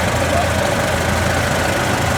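A 1956 Farmall 400 tractor idles at a vintage tractor show, its engine giving a steady, close, even rumble with a dense rattling texture and no change in pace throughout.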